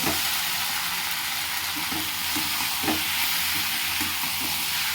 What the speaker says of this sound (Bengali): এবারে ভেজে রাখা পনিরগুলো দিয়ে দেবো। এবারে হালকা হালকা কিন্তু নাড়াবো।